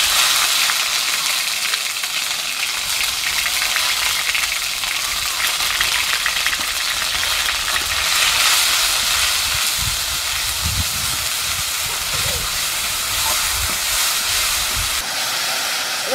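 Onion, garlic and ginger paste with green and ripe chillies hits hot oil in a pan, giving a loud, steady, broad hiss of frying that holds unbroken throughout with no voices.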